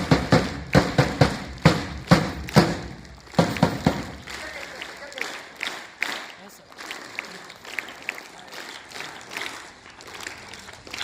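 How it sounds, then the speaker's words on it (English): Audience at a school award ceremony for achievers claps briskly and loudly for several seconds, then the applause thins to scattered claps under a speaking voice. "Let us all give a big round of applause."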